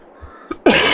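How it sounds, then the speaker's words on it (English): A single sharp cough bursts out close and loud after a short quiet lead-in, ending the brief moment abruptly. "I can feel a cough coming on."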